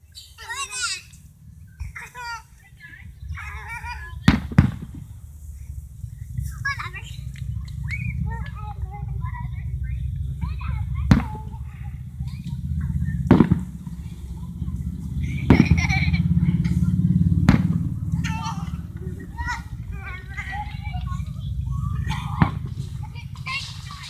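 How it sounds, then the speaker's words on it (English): Fourth of July fireworks go off as scattered sharp bangs, some distant and some nearer, spaced several seconds apart over the steady chatter of children playing and people talking. "Fireworks everywhere."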